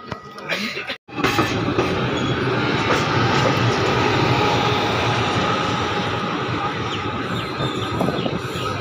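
The Digha–Malda Town special train pulls into Asansol Junction, heard from on board as a loud, steady rumble and rattle of carriages after a brief break, continuing without letup.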